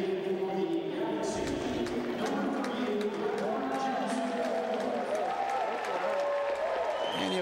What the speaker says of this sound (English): he'll get himself a little standing ovation from the crowd that's still here at StubHub Center